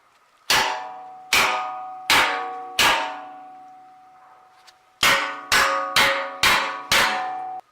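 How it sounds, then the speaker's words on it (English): A small hammer strikes a stock 1/8-inch sheet-metal Jeep TJ control arm bracket: four ringing metallic clangs spaced evenly, a short pause, then five quicker blows, each leaving a bright, decaying ring. "Stock bracket, small hammer,"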